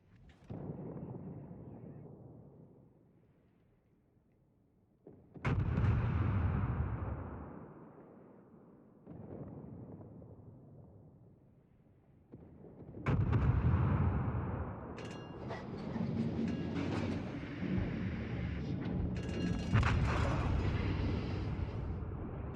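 Naval gunfire from a warship in the World of Warships video game, heavy booming salvos with long rumbling decay, some in overlapping sustained barrages, fairly loud.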